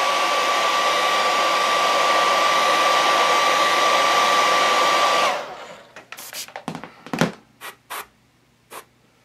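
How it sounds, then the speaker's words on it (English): Blow dryer running steadily and close while fixing a yellow paint chip on a Wolverine Bowen statue, then cutting off abruptly, followed by a few light scratchy handling sounds. "Blow dryer."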